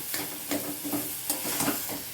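Snake gourd and poppy seed curry stirred in a pan, with a spoon scraping in a steady rhythm of soft strokes over a low sizzle, close and fairly quiet.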